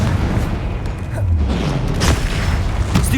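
A Confringo fire spell explodes during combat in the video game Hogwarts Legacy, a booming blast set in a dense, continuous wash of game effects and rumbling noise.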